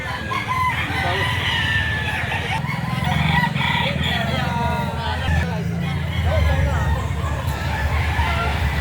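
Roosters crow and cluck at a busy chicken market in Lipa City, Batangas, heard over continuous crowd chatter and nearby talk throughout.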